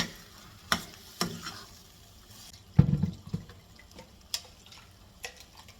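Raw prawns being stirred with boiled gongura paste in a pan, giving soft intermittent wet squelches and spoon knocks against the pan with a low simmer between them.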